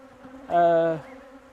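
A bee near an open hive frame gives a single loud, close buzz lasting about half a second over a faint background hum.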